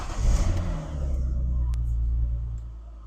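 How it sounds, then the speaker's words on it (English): A car engine fires up with a burst of revving, then settles into a steady low idle rumble that fades slightly toward the end. "you can hear the vehicle in the background"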